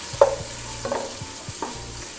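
Sliced onions are sautéed with green chillies in a pan for ghee rice, giving soft sizzling broken by a few distinct scraping stirs of a spoon, close and fairly quiet.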